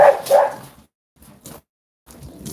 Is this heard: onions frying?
no